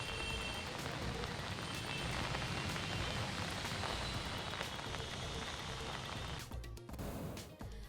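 Heavy rain falls steadily in Nashik district, a dense, close patter on surfaces that holds for several seconds before thinning out near the end.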